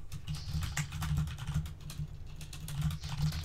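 Rapid typing on a computer keyboard clicks steadily and faintly in the background during an online tabletop game session, with no talk over it.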